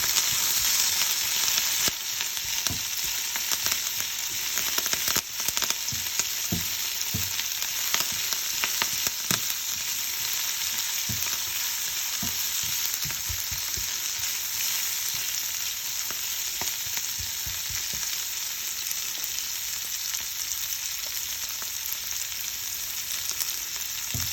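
Curry leaves and dried red chillies sautéing in hot oil for carrot varuval give a steady, close sizzle with frequent crackles and small stirring knocks throughout.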